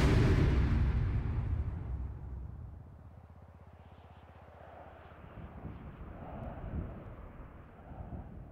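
A plane in Grand Theft Auto V flies low around a harbor course, its engine droning loud at first then fading to a softer, steady hum with wind-like rushing.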